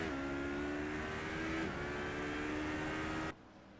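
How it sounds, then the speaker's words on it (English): BMW GT3 race car in a racing video game slowing onto pit road, a steady loud engine drone with a falling pitch as the pit lane limiter cuts in, ending abruptly. "As we check on Neri in the BMW, he's going to come down pit road, turning on that pit lane limiter."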